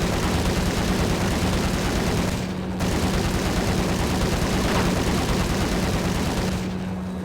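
Gunfire in the video game Max Payne, a continuous loud roar of rapid shots and booming blasts that carries on with only a couple of brief dips.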